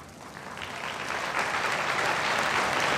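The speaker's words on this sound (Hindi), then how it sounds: "ये तालियां शायद बहुत कम होंगी किसी महापुरुष के लिए" A crowd claps at a temple consecration festival held at a Vedic school, the applause dense and continuous and swelling louder through the stretch.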